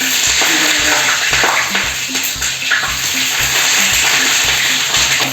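Eggplant pieces fry in a hot pan with a loud, steady crackling sizzle, broken by repeated low knocks of a utensil against the pan as the food is moved around.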